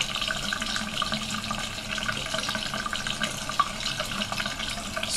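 Tap water runs steadily into a sink to rinse a makeup brush and its cleanser, a continuous close hiss and splash with no talking.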